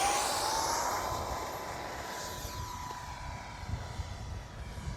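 X-Fly F-22 Raptor twin 40mm ducted-fan RC jet flying overhead, a high whining rush that fades as it passes, with a thin tone gliding upward early on, over gusty wind rumble.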